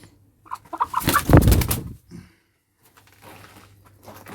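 Chickens cluck in a short burst that swells loud around the middle, then fades to quieter scattered clucks over a low steady hum.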